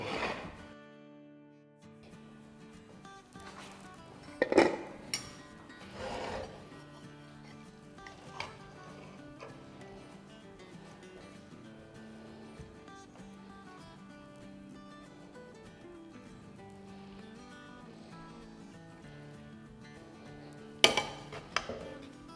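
A spoon scrapes white chicken pulao out of a cooking pot to serve it. Scattered metallic clinks and scrapes come over a quiet background, with a few louder knocks against the pot.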